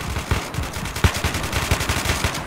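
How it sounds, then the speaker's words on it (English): AK-74 rifle in a Battlefield 2 mod firing in rapid automatic bursts, a dense, loud string of sharp shots with a few heavier bangs, continuous for the whole stretch. "Oh, so this is the AK-74."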